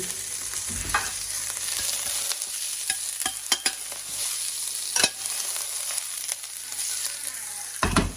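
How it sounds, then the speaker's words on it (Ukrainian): Onion and carrot fry in a pan with a constant soft sizzle, punctuated by sharp scraping and clacking as a utensil stirs, including a few louder knocks. "Да, Дорі, да, закладаю моркву."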